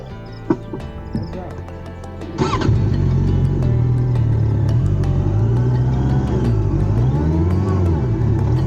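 A motorcycle on a muddy village road in Kenya starts up after a few knocks and clatters, then its engine runs loud and close with revving swells, while someone talks over it.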